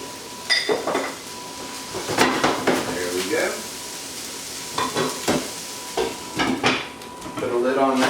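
Food being sautéed in a pan on the stove, a soft sizzle under repeated clinks and scrapes of a utensil stirring against the pan, fairly close and moderate in level.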